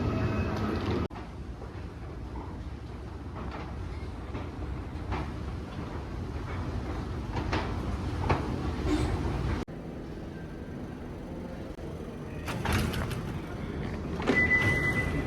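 Inside España metro station near the Montserrat train line, a low, continuous rumble of rail traffic and station machinery fills the space, with occasional clanks, a door thud and brief squeals over it.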